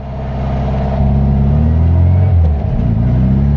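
A car fitted with a 34 PICT-3 carburetor is floored in second gear, its engine roaring loud and close in a steady, rising drone with a brief dip and recovery near the end.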